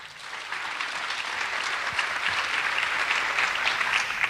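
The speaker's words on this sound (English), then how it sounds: "I think that deserves a hand clap." Parents at an evening freshman parent meeting clap steadily for the new school year, a dense, sustained round of hand clapping from a room full of people with no talk over it.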